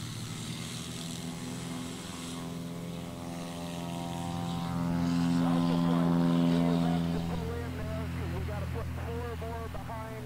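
Cessna 182-type light aircraft propeller engine at a STOL demonstration, a steady droning hum that swells louder mid-clip as the plane passes close, with crowd and announcer talk underneath.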